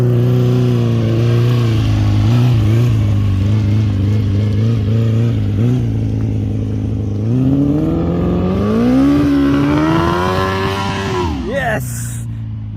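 Motorcycle with a swapped engine ridden on a first test, its loud, close engine droning steadily, then climbing in pitch as it accelerates before dropping off near the end.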